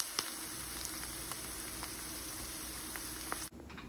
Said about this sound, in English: if you want your corn to have a little bit of crispy brown on the outside, then I recommend cooking it in a pan first.